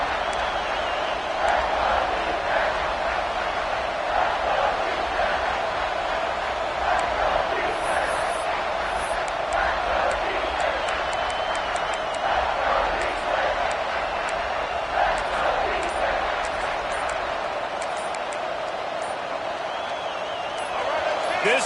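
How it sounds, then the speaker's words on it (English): Stadium crowd noise from a PS5 American football video game, a steady continuous roar and murmur of a large crowd at moderate level throughout, with faint higher chatter and occasional swells, under commentary-style voices. "This crowd knows this defense needs them right now."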